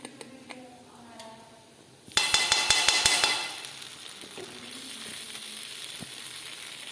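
Momos frying in a pan give a sudden loud burst of sizzling with sharp crackles that settles into a softer, steady hiss, with light clicks and utensil taps before and after.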